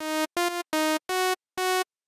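Five short sine-wave tones from a Serum synthesizer oscillator in a row, each held briefly with small gaps between, the pitch stepping slightly between notes, clean and alone.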